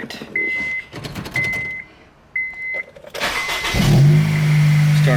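A Honda Civic Si being started: a few clicks and warning chimes inside the cabin, then the starter cranks and the engine catches and settles into a steady idle, close and fairly loud.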